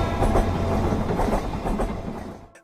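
A train runs along the tracks in the UK, its loud rumble and rhythmic clatter rolling on steadily before fading away at the very end.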